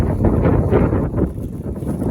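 Wind buffets the microphone in low, rumbling gusts, steady and close throughout the short stretch.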